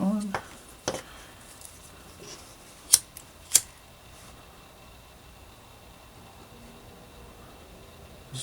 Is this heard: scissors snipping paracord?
yes